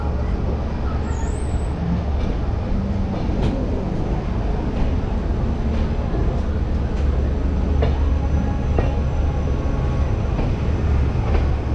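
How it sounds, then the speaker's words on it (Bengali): Tamralipta Express 12857 passenger train out of Howrah station heard from on board: a loud, continuous rumble and clatter of wheels on track, steady throughout, with no clear talking. "ছটা বেজে পঁয়তাল্লিশ মিনিটে আমাদের ট্রেন ছাড়লো হাওড়া স্টেশন থেকে"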